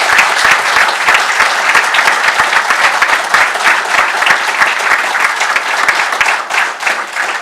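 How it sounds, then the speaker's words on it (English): An audience at a university event gives a loud, dense round of applause for staff, steady, close clapping from many hands lasting several seconds with no talk over it. "let's give them a round of applause for the wonderful work that they do."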